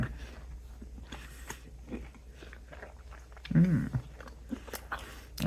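Someone bites into a mozzarella stick coated in Grinch hot sauce, giving one close, crunchy bite followed by soft chewing sounds, with quieter mouth noises before and after.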